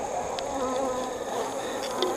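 Honey bees buzzing steadily around an open beehive during a winter inspection, a close, dense, continuous drone of many wings with no voices.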